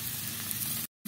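Spices frying in a pan with salt and turmeric for a pointed gourd and red lentil curry: a steady, dense sizzle close up that breaks off abruptly into silence near the end, then briefly resumes.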